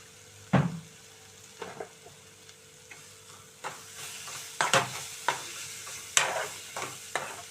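Bitter gourd and onion curry fries in a pan over a low flame, with a soft steady sizzle broken by repeated sharp scrapes and taps of a spoon stirring against the pan.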